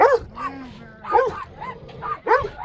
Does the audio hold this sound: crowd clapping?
no